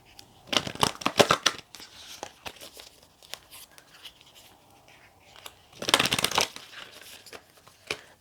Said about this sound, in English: Let's see if I can shuffle this on camera now